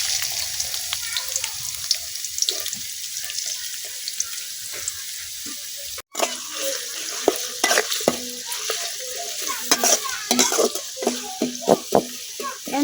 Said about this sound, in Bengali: তেল গরম হয়ে গেছে, এখন আমি তেলের মধ্যে দিয়ে দিচ্ছি কাটে নেওয়া পেঁয়াজ